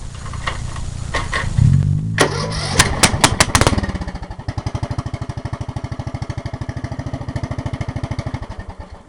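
A Craftsman lawn tractor engine cranks with a burst of sharp clatter, catches after a few seconds and settles into a steady, rapid chugging run close by, no talking.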